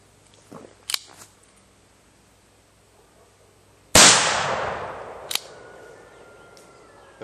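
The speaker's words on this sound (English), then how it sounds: "I'm just doing this because it's what I had laying around. And so just kind of test firing it." A Ruger Old Army black powder revolver fires one loud, close shot with a sharp crack and a long decaying boom, preceded by a few small clicks and handling knocks, with another faint click after.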